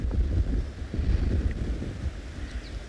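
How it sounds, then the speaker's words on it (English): Gusty wind buffets the microphone with uneven low rumbling bursts during a South African safari, loud and close, with no voices. "It's windy enough"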